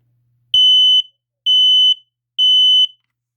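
A Kidde P9050-CA smoke alarm under test emits three long, piercing, high-pitched beeps of about half a second each, evenly spaced, loud and close, after a brief click, with no voices.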